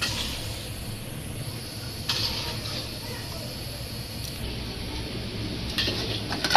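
Puffed rice (muri) is tossed and mixed by hand with cut cucumber and tomato, making a steady soft rustling and scraping with occasional light clinks of a bowl, close by, with faint voices in the background.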